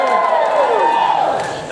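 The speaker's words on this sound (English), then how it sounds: "That's a really bad cheer." A crowd at a university Pacific Islander cultural night cheers and shouts briefly, a loud, close burst of mixed voices that tapers off within a couple of seconds.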